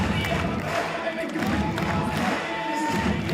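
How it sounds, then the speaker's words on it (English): Crowd at the men's IFSC boulder final in Prague cheering and urging on a climber, a steady wash of shouts and applause under a commentator's voice. "the crowd encouraging"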